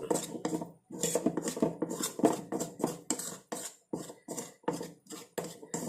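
A spoon scrapes and clinks steadily around a bowl, stirring a paste of henna powder; close, busy rhythmic scraping with brief pauses, with no talking.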